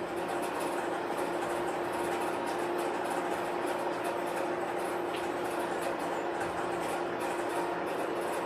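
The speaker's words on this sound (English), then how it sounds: "Good part is train's still going." A model train rumbles steadily nearby on a layout with a constant electric hum and faint clicking of wheels on track, running without pause.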